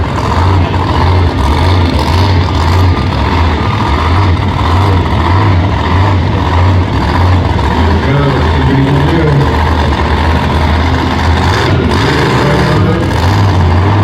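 A monster truck engine roars loud and close throughout a nose wheelie attempt at a Middletown, New York event, with a steady heavy drone and rising revs.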